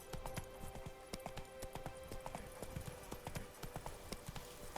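Roach, a horse in The Witcher 3: Wild Hunt, clip-clops along in a steady, quick rhythm of hooves, fairly quiet and unbroken throughout, with no voices over it.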